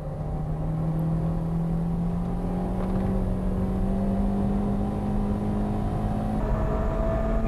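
Racing cars on a circuit, a Renault and a Honda Integra, their engines droning steadily with rising pitch as they accelerate, loud and continuous with no talk.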